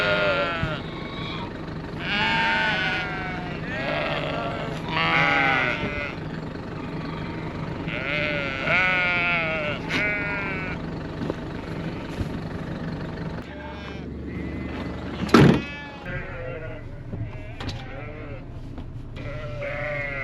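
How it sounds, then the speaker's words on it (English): Grass-fed sheep bleat repeatedly at a fence during feeding, several wavering calls rising over a continuous outdoor background, with a sharp brief noise near the end. "You're grass-fed sheep."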